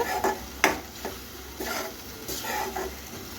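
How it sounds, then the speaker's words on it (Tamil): Ground tomato sautéing in oil for masala bhindi, stirred with a spoon in a pan, gives soft scrapes and light sizzling in uneven strokes close by, with no talk. "இப்போ இதில் இருக்க எண்ணெய் பிரிஞ்சு வர அளவுக்கு வதக்குங்க"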